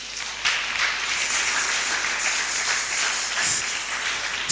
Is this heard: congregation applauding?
yes